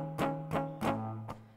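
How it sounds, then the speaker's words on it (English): Four quick strums of a muddy, buzzing guitar chord with a dull, choked ring between strokes. "Otherwise, you won't really get a clear sound and it might sound like this."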